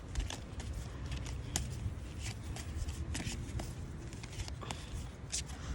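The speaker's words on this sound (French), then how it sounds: "je vais retirer encore une carte" Oracle cards being drawn and handled from a deck outdoors in nature, a soft continuous papery shuffling and rustling close by, with no talk.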